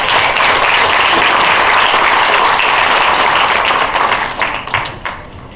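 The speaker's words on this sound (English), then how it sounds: "I just want to take a second and give everybody that worked really hard on this an applause." An outdoor ribbon-cutting ceremony crowd breaks into loud, sustained applause, a dense steady clatter of hands that thins into scattered claps before fading.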